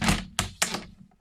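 A rubber stamp thumps onto scrap paper during card crafting, with three close, dull presses in quick succession, each a little fainter than the last.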